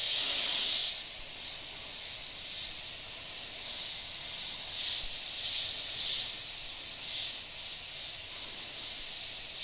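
An airbrush sprays paint in a steady, close hiss to shade teeth in a colouring-book drawing, running continuously with slight pulses in strength and no talking.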